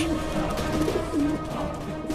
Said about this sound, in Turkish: Ne çok güvercin var.